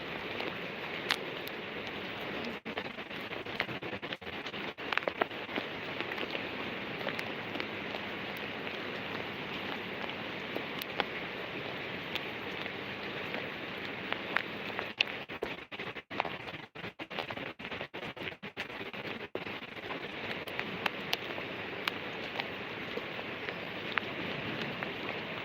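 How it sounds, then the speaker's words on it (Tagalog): Steady rain falls outdoors, a continuous dense hiss of drops hitting surfaces across the whole stretch, fairly close and even in loudness, with occasional brief louder spatters and no talking. "Lagi nang umuulan dito."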